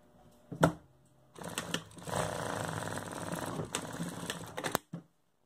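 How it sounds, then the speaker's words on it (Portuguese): A sewing machine stitches a seam around the edge of a pet dungaree, running in a steady mechanical burst of about three seconds after a few brief handling clicks, close and fairly loud. "Só uma costura ao redor desse ponto"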